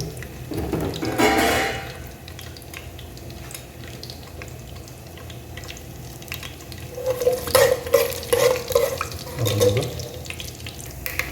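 Masala mixture for an Okanekal-style fish curry frying in hot oil, a steady low sizzle with occasional stirring scrapes and clinks from the pan, loudest near the start and again toward the end.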